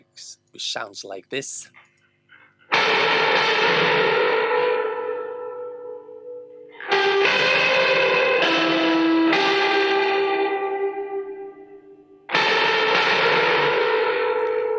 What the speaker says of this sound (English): It's a guitar. It's a reverb going into a guitar rig. Just a bunch of distortion, and out of it reverb again.